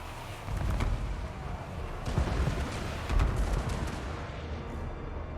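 Cannons firing in a Total War: Warhammer battle involving Karak Kadrin dwarfs, several deep booms and rumbling blasts spread across a noisy battlefield din, moderately loud.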